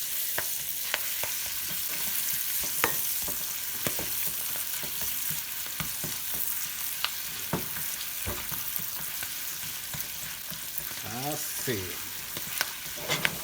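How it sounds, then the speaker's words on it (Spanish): Spinach and garlic sizzle steadily in a pan for an omelette, a continuous close frying hiss with scattered pops and a brief scrape of stirring near the end; a single short word is spoken. "voy a agregar todas las espinacas y las voy a empezar a cocinar"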